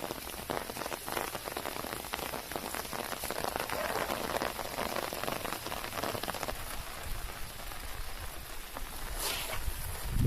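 Steady rain pours down outdoors on a fishing trip, a dense continuous hiss of drops striking surfaces throughout, close and even, with no voices.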